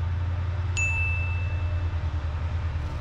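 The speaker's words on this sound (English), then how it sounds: "The loud noise you can hear is from a Class 68 locomotive" A Class 68 diesel locomotive built by Vossloh and Stadler idles at a station with a loud, steady low engine rumble, while a sharp metallic ding rings out briefly early on; no talking.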